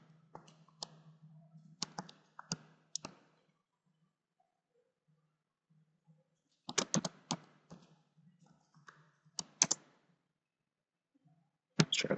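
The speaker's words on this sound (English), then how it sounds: "so here you'll type in your password." Computer keyboard keys tapped in short bursts while a password is entered during virtual machine setup, quiet clicks in clusters separated by pauses, with no talking.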